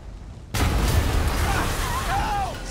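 A bomb blast in the Spider-Man video game hits suddenly after a quiet moment. A loud, deep boom rolls into a sustained rumble of debris, with faint voice-like sounds near the end.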